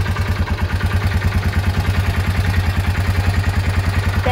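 A Yamaha 4x4 ATV with a shaft drive and automatic transmission idles close by, its engine putting out a loud, steady, low, pulsing chug throughout.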